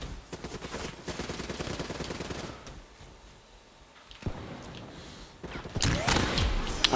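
Rapid automatic gunfire from a Black Ops 3 online match, bursts of fast shots in the opening seconds, a quieter stretch with a sharp thud, then another loud dense volley near the end.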